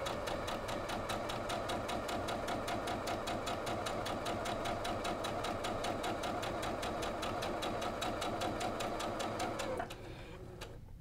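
A sewing machine stitches a quilt block diagonally corner to corner at a 2.0 stitch length, a fast even run of needle strokes that holds steady for about ten seconds, then cuts out, leaving faint motor hum.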